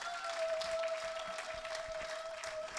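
Church congregation applauding and cheering during worship, a steady wash of clapping with a sustained tone running beneath it, moderately loud throughout.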